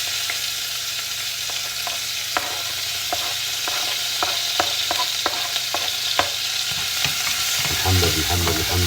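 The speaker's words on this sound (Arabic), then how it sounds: "شوية زيت حارة ونقدح فيها شوية ثوم، وعلى طول ننزل عليها البصل" Garlic and onion frying in hot oil, a loud constant sizzle punctuated by sharp clicks of a spoon stirring, with a low bubbling rumble building near the end.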